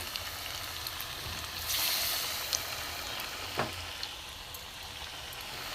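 Milk gokul pitha sizzles in hot oil, three pieces frying together in a steady crackling hiss, with a few soft clinks and scrapes of stirring near the pan.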